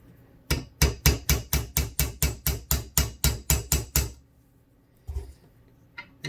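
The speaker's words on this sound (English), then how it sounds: "Now I try to just tap lightly and not go crazy with it." A hammer taps a punch to drive the blade pin out of a car key fob, an Equinox or Camaro fob, on a loose bench: about fourteen sharp, evenly spaced metallic knocks, close and loud, then a few scattered softer taps after a pause.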